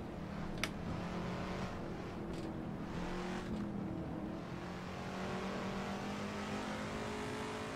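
Chinook Mk2 Can Am race car engine in a racing video game, a continuous close droning roar held at high revs with slight pitch changes and a short sharp click early on.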